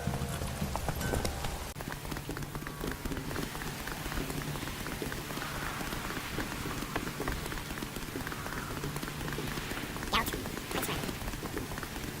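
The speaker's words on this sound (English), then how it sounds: "Looks like rain." Steady rain falling in The Witcher 3, a continuous patter over the whole scene mixed with horse hooves clip-clopping and occasional speech.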